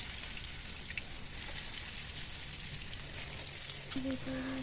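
Marinated fish pieces fry in hot cooking oil, a steady close sizzle running throughout, with a brief faint tonal clink near the end.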